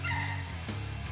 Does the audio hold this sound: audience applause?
no